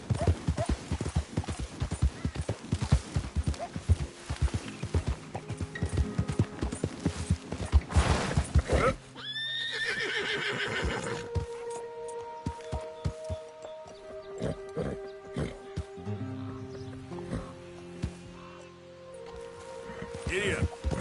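A horse's hooves clip-clop in a steady, close rhythm, then the pace breaks up into scattered steps. A whinny-like cry and a brief human voice occur in the middle.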